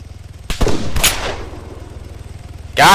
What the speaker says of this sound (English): Let's see if I can get this guy with the pistol.